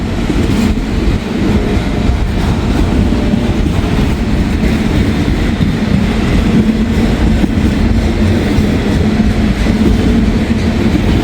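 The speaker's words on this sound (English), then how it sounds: "A big train here." A big intermodal freight train rumbles past close by, a continuous heavy roar with rhythmic clattering of wheels on the rails throughout.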